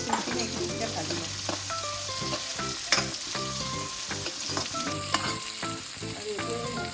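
Chopped tomatoes and onions fry together in a pan with a steady, close sizzle and occasional stirring clinks, while background music plays throughout.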